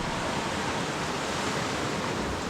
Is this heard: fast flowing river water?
yes